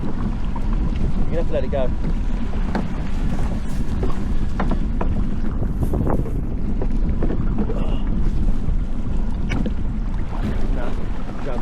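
Fishing boat engine running steadily through a continuous low drone, with wind buffeting and water noise around it and someone talking over it.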